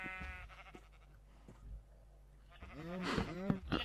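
Sheep bleat in Minecraft, several wavering cries clustered near the end over a low steady background, following quieter clicks and thumps earlier, with no talk.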